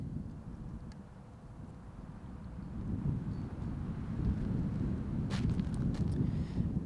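Steady wind rumbles and buffets against the microphone at a disc golf tournament in Las Vegas, building stronger partway through, with a faint distant voice briefly over the roar.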